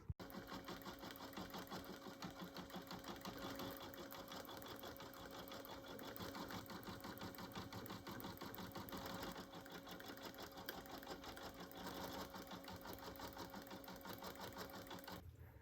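An embroidery machine stitches black eyes and a nose onto an in-the-hoop stuffed bear, giving a steady, continuous mechanical whirr with rapid needle rhythm throughout, close and even, with no talk.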